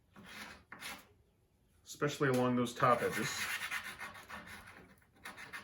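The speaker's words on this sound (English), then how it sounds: "I want to just give the dowels a little sanding," Wooden dowels sanded by hand, a short burst of dry rubbing and rasping strokes close by, with someone talking before and over it.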